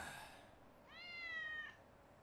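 A cat in an animated scene gives a single drawn-out meow, fairly faint and alone, with a clear voiced tone rising in the middle of the clip.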